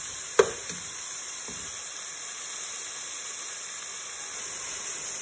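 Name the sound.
sautéing squash (kalabasa) in a pan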